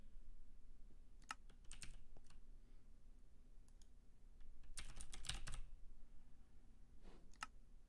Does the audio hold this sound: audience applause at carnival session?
no